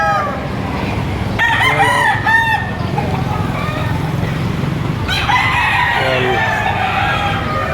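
Chickens and roosters at a poultry market in Padre Garcia, with several roosters crowing loudly in overlapping calls and clucking beneath, nearby and continuous amid market background noise.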